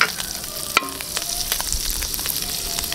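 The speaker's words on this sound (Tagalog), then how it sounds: "Magigisa na tayo ng ating butter." Butter sizzling and frying in a hot pan for carabeef in mushroom sauce, a loud, close, continuous crackle with a sharp clink of a utensil early on.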